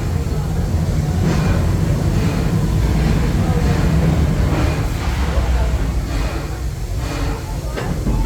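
Busch Gardens Tampa's Serengeti Express amusement park train rolling along, a steady low rumble with rhythmic clatter, close and continuous, with people talking over it.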